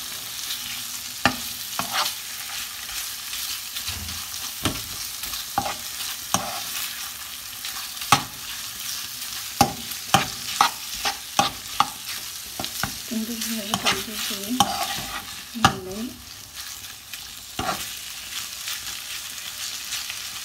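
Chicken pieces fry in a pan with onion and ginger garlic paste, a steady sizzle punctuated by frequent sharp clinks and scrapes of a spoon stirring, with no talking.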